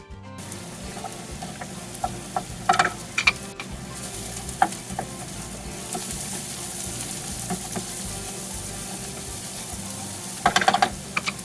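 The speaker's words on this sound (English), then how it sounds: "we want to cook the garlic, so just stir that into the leeks that we have in there and let it cook for about a minute" Garlic stirred into leeks in a hot pan for colcannon, a steady close sizzle with scraping and clicking spoon strokes in bursts, no talking.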